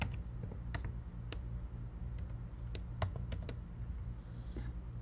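Typing a team name into Microsoft Teams on a computer keyboard: scattered light key clicks at an uneven pace over a steady low hum, close and fairly quiet, with nobody speaking.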